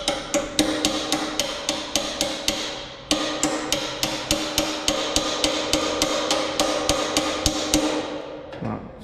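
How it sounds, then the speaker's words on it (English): Repeated hammer blows strike from inside a Qmark 5 kW heater housing, loud metallic knocks in a steady rhythm of about three per second with a brief pause near three seconds, no talking. "Punch it from the inside and see if we can make it. This is a hammer, you see."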